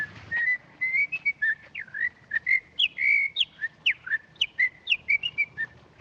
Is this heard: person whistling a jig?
yes